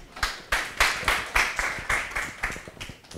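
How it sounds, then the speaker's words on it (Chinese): A small audience at an indoor talk on bringing coding education to rural areas welcomes a speaker with applause: about a dozen crisp, evenly spaced claps, close and distinct rather than a dense roar, with no talking. "我们就掌声欢迎"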